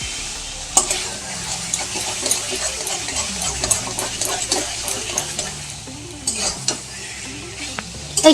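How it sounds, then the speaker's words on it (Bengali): Taro leaves and a hilsa fish head are stirred in a pan over a high gas flame, with steady scraping and sizzling throughout and occasional sharper clanks of the spoon against the pan. "এরকমভাবে ঘাটতে হবে।"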